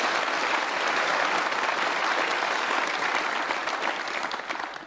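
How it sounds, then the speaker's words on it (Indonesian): A studio audience at an Indonesian talk show claps in loud, dense applause, sustained evenly and close for the whole stretch before tapering slightly at the end. "kita berikan aplaus untuk Teus"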